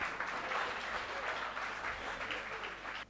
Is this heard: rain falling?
no